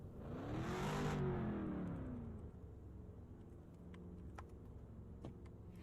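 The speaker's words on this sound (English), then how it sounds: "Will you please hold back from revving" A car engine revs up and fades away at a race lineup, a faint whirring rise that sweeps past and then settles into a low, distant engine hum.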